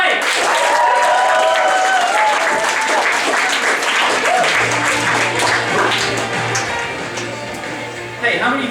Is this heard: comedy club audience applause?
yes